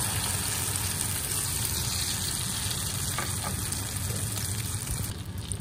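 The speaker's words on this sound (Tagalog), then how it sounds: "ang ating mahiwagang kawali with mantika. Ilalagay na natin ang ating tortang talong." Tortang talong, an eggplant omelette, sizzles steadily in hot oil in a pan, a loud, continuous frying hiss that runs unbroken and settles slightly near the end.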